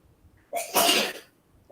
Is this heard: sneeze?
yes